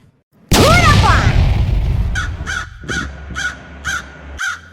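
A sudden whooshing hit gives way to a crow in a cartoon cawing loudly five or six times in an even rhythm, each harsh call clearly separated.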